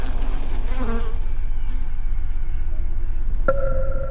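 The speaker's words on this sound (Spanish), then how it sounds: "Unos sienten escalofríos al sentir una avispa cerca." A wasp buzzes close by, a loud continuous drone that wavers in pitch as it moves, with a brief sharper tone near the end.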